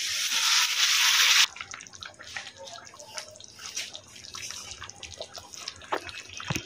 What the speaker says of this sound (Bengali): এখন আমি একটু গরম পানি দিয়ে দিলাম